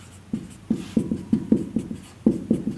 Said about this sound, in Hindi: लिखेंगे हम लोग